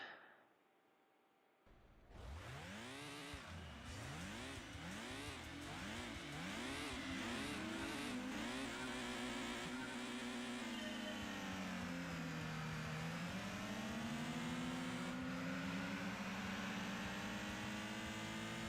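Car engine from Gran Turismo 2 revving hard through repeated rising gear pulls, then a long steady high-revving drone with a dip and recovery, loud and continuous with no talk.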